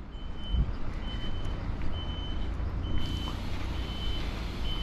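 A truck's reversing alarm near Farnborough Airport, repeating evenly spaced high beeps over a low engine rumble and road noise, moderately distant and steady.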